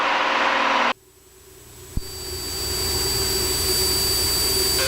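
Steady, loud roar and whine of a small airplane engine during an instrument-weather takeoff from Edinburg, Texas, heard from inside the cockpit; a sudden drop and a click occur, then the drone builds back up.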